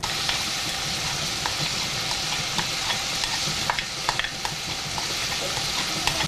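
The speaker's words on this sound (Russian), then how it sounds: "теперь все это выкладываем на сковородку. Его нужно обжарить" Mushroom sauce ingredients stir-fried in a pan, giving a steady close sizzle with scraping and stirring clicks throughout, no voices.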